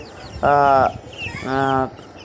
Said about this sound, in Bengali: আজকে আমার এখানে রয়েছে দুই ধরনের মুরগি